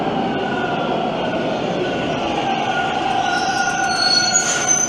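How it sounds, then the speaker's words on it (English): A Toronto subway train rumbles through a station with a steady roar, and high wheel squeal builds toward the end, loud and continuous with no talking. "I'm gonna have to talk over the train, aren't I?"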